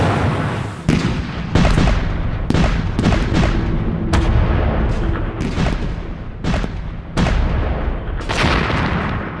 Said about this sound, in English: Monash's powerful artillery is pulverizing German defenses right along the San Quentin Canal